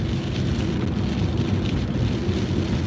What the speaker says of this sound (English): this ain't like hard rain by no means